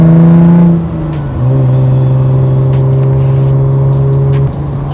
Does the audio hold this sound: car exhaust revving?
yes